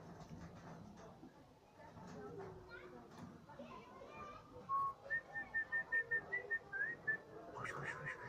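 A pet cockatiel whistles a series of short, repeated, clear notes, fairly close, with people talking and murmuring softly around it.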